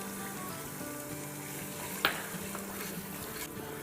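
Masala spices frying in a large pot for haleem, with a continuous close sizzle and crackle and a single sharp clink of a spoon midway.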